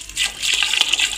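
Water poured off soaking sago pearls while washing them, a steady splashing gush with small surges and drips, close by and alone.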